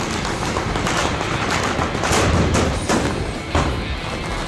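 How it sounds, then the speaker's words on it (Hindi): Dozens of guns firing together in a Holi street procession, with cannon shots and firecrackers, making a dense, continuous, loud crackle of overlapping bursts with no pause. "1-2 नहीं, दर्जनों बंदूक आग उगल रही हैं।"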